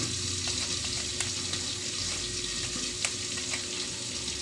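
Pork belly (liempo) fries in a pan with a steady, close sizzle and crackle, scattered pops and spits rising over the continuous hiss of hot oil.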